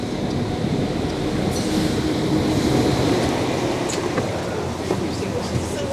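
Irish Rail ICR 22000 class train pulling into a station, a loud, steady rumble of wheels and engine with a few faint squeals over it, sustained and close.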